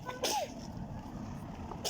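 A single sharp sneeze bursts out near the start, followed by quiet background rumble and a brief voice sound at the end.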